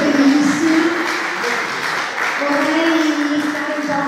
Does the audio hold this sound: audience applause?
yes